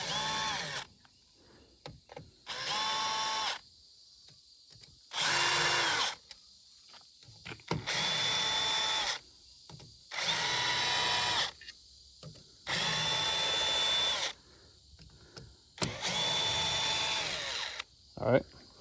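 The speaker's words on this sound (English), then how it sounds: "so now we're gonna take all them screws out of there." A power drill backs screws out of a Lowrance Ghost trolling motor cover during a gear replacement, seven whirring bursts of a second or two each with short quiet gaps, close and loud.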